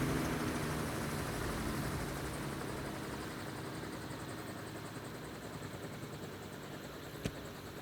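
A steady, dense helicopter rotor-and-engine roar in an audio drama fills the scene, constant and fairly loud, with a sharp click near the end.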